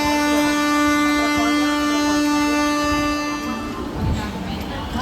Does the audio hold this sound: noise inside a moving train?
yes